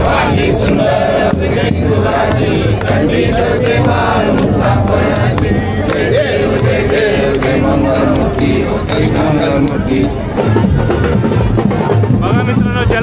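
A crowd at the Narali Purnima festival in Varsova Koliwada, Mumbai, cheering and shouting loudly and without a break, dense overlapping voices that stay close and fill the whole stretch.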